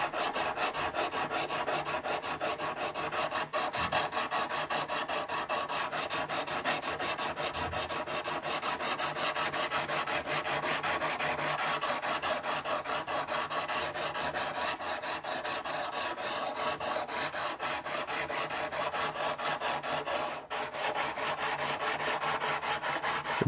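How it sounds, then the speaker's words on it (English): Continuous fine rasping as 320 grit sandpaper is rubbed back and forth over guitar fret work in quick, even strokes, close up and steady throughout. "I'm going to take the 320 paper and just tease out"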